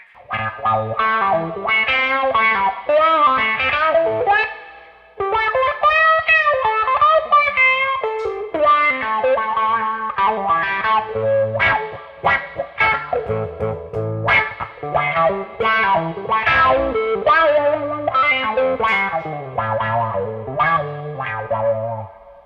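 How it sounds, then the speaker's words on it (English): Distorted blues electric guitar played through a wah pedal, notes sweeping with a vocal, vowel-like quality in expressive, continuous phrases, close and loud. "Another thing is wah, right? So if we want to sound really vocal and expressive"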